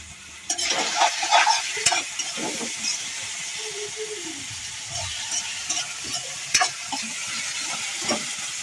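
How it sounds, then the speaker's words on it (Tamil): Onions sautéing in a pan for crab curry, a steady sizzle broken by repeated stirring scrapes and clatters, close and alone. "இது வந்து இந்த வெங்காயம் இப்போ வெள்ளை கலர் இருக்குது, ப்ரௌன் கலர் வரும் வரைக்கும் நாங்கள் வந்து இதை வந்து நல்லா வதக்கணும்"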